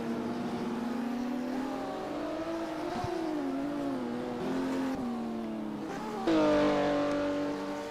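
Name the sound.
race cars sliding in a sim racing video game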